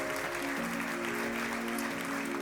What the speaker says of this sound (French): est-ce qu'on peut applaudir le Seigneur pour cela?